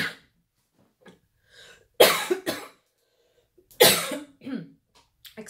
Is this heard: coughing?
yes